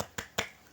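A primary school class doing a spirit clapping rhythm, two sharp crisp claps a fraction of a second apart, close and alone without voices.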